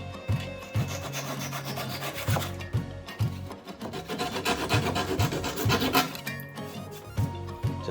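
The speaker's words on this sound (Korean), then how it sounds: "이런 식으로 쓰는 톱입니다" A hand saw cuts into wooden furniture with quick, rhythmic rasping strokes, close and fairly loud, each push and pull scraping clearly through the wood.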